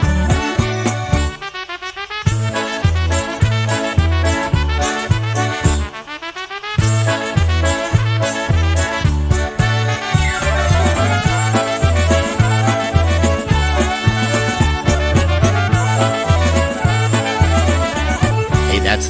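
An orchestra plays a polka at a loud, steady level. A bouncing bass and chord rhythm carries bright melodic lines above it. No voices are heard.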